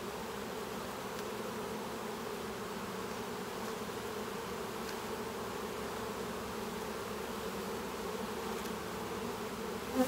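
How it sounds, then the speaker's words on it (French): Honey bees fly around a hive on a warm day, a constant, dense buzzing drone of many wings close by, steady throughout with no voices. "Beaucoup d'abeilles en vol, comme vous pouvez voir."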